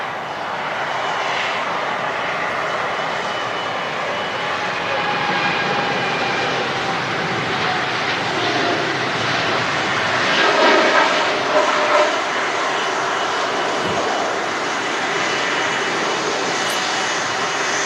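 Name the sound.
TUI Boeing Dreamliner jet departing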